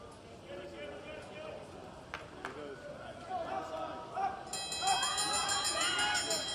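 At a Masters Track World Championships cycling race, the final-lap bell rings continuously in the last seconds while an announcer talks over crowd noise.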